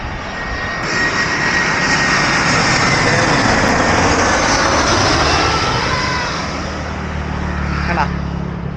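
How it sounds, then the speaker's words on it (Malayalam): A large passenger airplane flies low overhead near an airport, a loud, sustained jet roar that swells and fills the whole stretch before easing slightly at the end. "ഗൈസ്, അടുത്ത ഫ്ലൈറ്റ് വരുന്നുണ്ട് കേട്ടോ."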